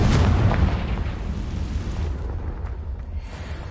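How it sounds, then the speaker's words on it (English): A Confringo fire spell explodes in Hogwarts Legacy, a loud opening boom that decays into a rumbling roar over a few seconds, with no speech. "Confringo!"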